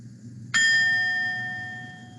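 A meditation chime struck once, giving a bright clear ring that rises sharply and then decays slowly with a long sustained tone, standing alone over a quiet background.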